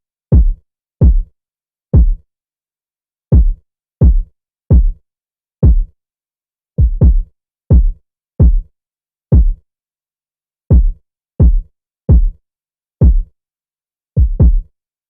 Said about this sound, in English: his next sound is a kick, and it sounds like this.